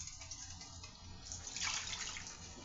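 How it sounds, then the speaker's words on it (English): Tap water runs steadily as an empty chicken can is rinsed out, a faint continuous splashing hiss with a brighter gush partway through. "I'm going to rinse out the can a little bit."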